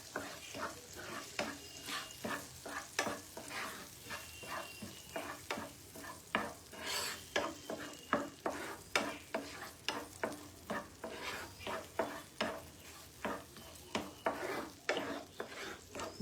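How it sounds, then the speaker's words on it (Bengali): A spoon stirs paneer kofta masala in hot oil in a pan, giving a quiet, regular series of scraping strokes over a soft, steady sizzle. "তেলটা গরমই আছে, তাই এটাকে আমি ভালো করে নাড়াচাড়া করছি"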